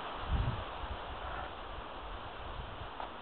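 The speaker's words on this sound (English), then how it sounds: "windy day here in Southern Oregon." Wind gusts through trees on a blustery day in Southern Oregon, a steady broadband rush of rustling leaves with a brief low buffet near the start, continuous and fairly close.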